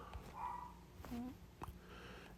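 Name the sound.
dogs barking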